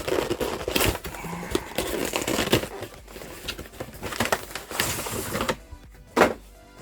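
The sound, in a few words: opening a Pikachu Zenith Supreme Pokémon card box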